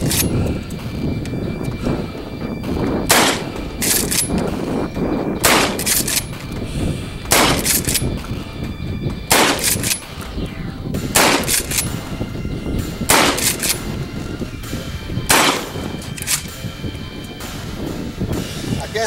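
Loud, sharp shotgun blasts from a Maverick Model 88 Security 20-inch pump shotgun, about ten reports spaced a second or two apart outdoors, with a rumbling background between shots.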